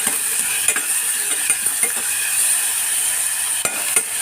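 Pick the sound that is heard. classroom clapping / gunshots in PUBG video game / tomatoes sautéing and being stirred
tomatoes sautéing and being stirred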